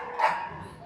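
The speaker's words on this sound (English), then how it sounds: "The dog is a paid actor." A single short dog bark or yip rings out at close range inside an airport terminal, followed by quiet background hum.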